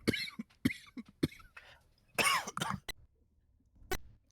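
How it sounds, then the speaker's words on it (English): A burst of sharp coughs, several in quick succession, close and fairly quiet, followed by a pause and one more cough. "Sorry, introductory coughing fit."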